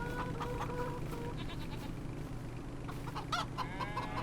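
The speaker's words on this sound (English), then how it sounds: "Where are the chickens at?" Chickens cluck repeatedly on a farm in a homestead survival video game, with bleating goats or sheep mixed in, a busy layered barnyard chorus at moderate volume.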